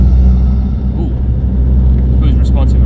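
Car accelerating in second gear toward 2000 RPM with a throttle controller in cruise mode, a loud, steady in-cabin engine drone and road rumble, with a person talking over it.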